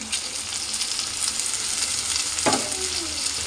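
Tomatoes being sautéed in a pan for chicken curry, with a dense, steady sizzle that stays loud throughout and one brief scraping stir partway through, close up with no voices.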